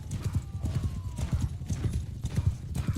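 Horse hooves clatter in a rapid, uneven galloping rhythm in a medieval battle video game, loud and close, with several mounts running together.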